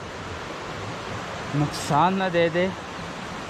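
The Thandiani waterfall near Abbottabad gives a steady, broad rush of falling water throughout, while someone speaks briefly over it partway through.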